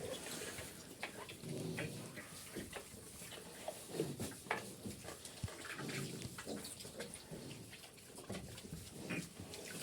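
A piglet with a curly tail moves toward water, giving off soft grunts and snuffling noises at close range amid a busy barnyard background with no talk.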